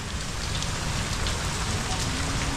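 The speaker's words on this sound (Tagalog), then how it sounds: "Nako po, ang ulan hindi na tumigil." Heavy rain pours steadily and loudly onto surfaces near a coastal house with big waves, a dense unbroken hiss throughout with no talk.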